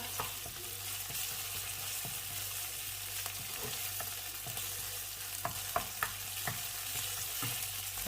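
Spicy pork and eggplant stir-frying in a pan, a steady quiet sizzle with scattered clicks and scrapes of stirring, no talking.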